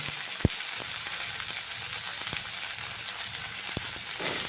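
Tomato and curry leaves frying in a pan for a fenugreek chicken gravy, giving a steady soft sizzle with a few sharp clinks or pops, with no talking.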